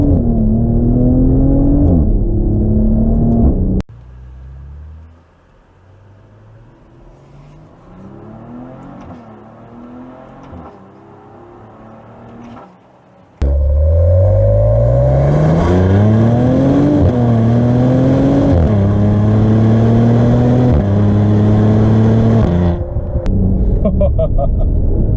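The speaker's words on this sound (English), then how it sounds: "full throttle control with the upshift and the downshift, and we're definitely going to crank up those RPMs" 2020 Maserati Levante S accelerating at full throttle, its engine climbing through rising high-RPM pulls with upshifts and downshifts, loud and close, with a quieter stretch mid-run before the roar returns.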